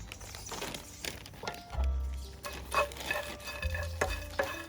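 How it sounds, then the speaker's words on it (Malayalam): A couple of handfuls of dried shrimp being heated in a pan, with the spoon scraping and stirring through them in irregular close strokes over a faint, steady sizzle. "ആദ്യമായിട്ട് നമുക്ക് നമ്മുടെ ഈ ഉണക്ക ചെമ്മീനൊന്ന് ചൂടാക്കിയെടുക്കാം."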